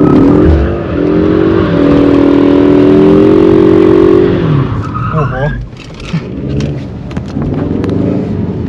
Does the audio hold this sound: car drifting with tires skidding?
yes